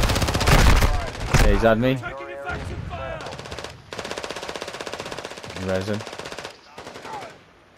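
Rapid automatic gunfire bursts in Call of Duty: Modern Warfare II DMZ on PS5, loud and close, with players talking over the shooting between volleys.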